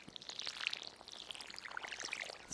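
A watering can waters crops in the video game Stardew Valley, giving a faint, soft pouring and sprinkling patter of bright droplets that runs steadily with small repeated swells.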